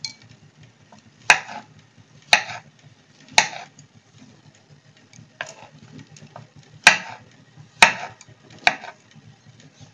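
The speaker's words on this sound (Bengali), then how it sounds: "ছোট ছোট টুকরো করে কেটে নিই।" Knife chopping mushrooms into small pieces on a board: sharp, close thuds in irregular clusters of two or three, separated by quiet pauses, with no talk.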